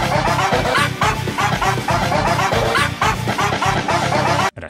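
A Shiba Inu meme remix chops dog barks and yips into a loud, dense, rhythmic musical pattern that runs continuously before cutting off abruptly at the end.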